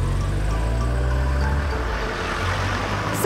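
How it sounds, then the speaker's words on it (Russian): Toy cars rolling off a cartoon ferry onto the shore, a loud steady low engine rumble that shifts pitch partway through as the vehicles drive off, with no talk over it. "Машины едут на берег."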